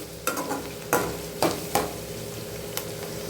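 Chicken 65 thokku masala sautés in a pan with a steady soft sizzle, broken by a handful of sharp spoon clinks and scrapes as it is stirred; no one speaks.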